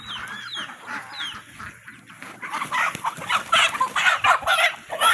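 Chickens cluck and call repeatedly at a moderate distance, a busy run of overlapping bursts that grows denser and louder in the second half, including a feather-footed hen among the flock.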